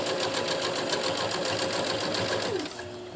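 A sewing machine runs fast and steady, stitching a zipper onto a jungle hammock, its rapid needle chatter loud and close before easing slightly at the end.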